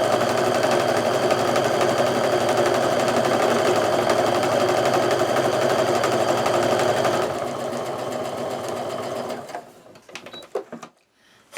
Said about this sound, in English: I'll sew the rest of the way down this side